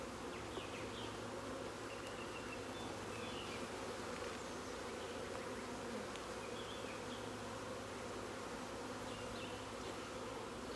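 Dense, steady buzzing of many honeybees swarming over an open brood frame while a nucleus colony is installed, a continuous close hum lasting throughout with no voices.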